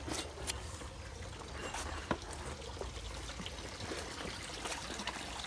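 Spring water trickles and pours steadily at a ruined stone quarry in Rio Grande da Serra, a soft continuous stream with small splashes, close and fairly quiet, with no voices.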